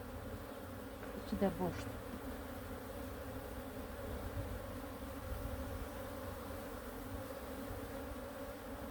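Honey bees drone steadily around a full beehive in a garden apiary, a dense continuous hum close by, with a brief spoken remark early on.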